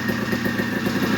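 A 1983 dirt bike engine, about forty years old, runs just after its first start, a close, steady pulsing putter with a clattering edge over a brief moment, no voices.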